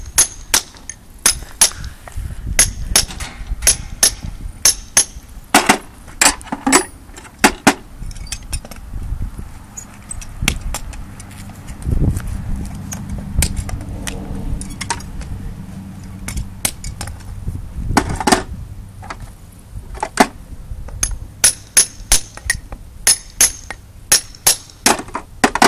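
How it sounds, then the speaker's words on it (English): A farrier pulling nails one by one from a horse's shoe with hand tools, giving sharp metallic taps and clinks in irregular bursts, close and loud, with quieter scraping pauses in between. "We're going to take the nails out one by one."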